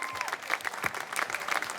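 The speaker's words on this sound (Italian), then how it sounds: "grazie dell'applauso, applaudite pure" An audience claps at an outdoor band concert in Piazza Manzoni, Jesolo, with steady, fairly close applause throughout and a voice briefly heard beneath it.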